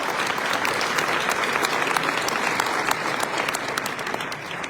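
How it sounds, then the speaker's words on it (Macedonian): Audience applause breaking out for a guest called up at a live event, a dense, steady clapping from a crowd that fills the whole stretch at full strength. "Ајде, поздрав за Зоги, еден аплауз."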